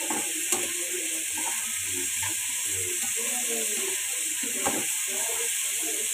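Leafy greens with turmeric frying in a pan give a continuous close hiss and sizzle, with occasional soft stirring scrapes and small clicks, while a faint voice murmurs briefly in the background.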